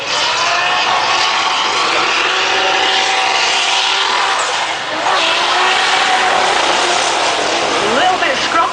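A Nissan S15 drift car's engine roars continuously on a circuit during Super Pro qualifying at Lydden Hill, loud and sustained with shifting revs and tyre noise, under a commentator's voice.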